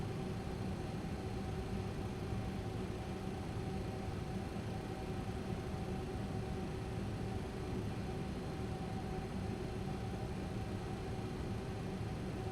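MD-11 jet engines at TOGA takeoff thrust in a flight simulator, a steady broadband roar with a faint tonal whine, constant and unbroken throughout.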